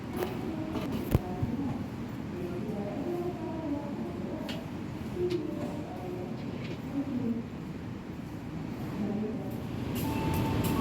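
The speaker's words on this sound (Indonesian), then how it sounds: "kereta api Gaya Baru Malam Selatan telah tiba di Stasiun Kutoarjo" Inside the Gaya Baru Malam Selatan passenger train standing at Kutoarjo station, a low steady rumble and hum fill the carriage, with faint murmuring voices, occasional clicks and one sharp knock.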